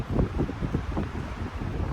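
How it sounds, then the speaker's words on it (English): Wind rumbles and buffets the microphone outdoors, a low, fluttering roar with no talking. "It's pretty windy out here today."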